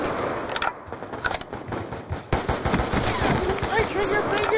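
A zombie gun in a multiplayer video game fires rapid automatic bursts that rattle loudly, while players talk excitedly over the gunfire.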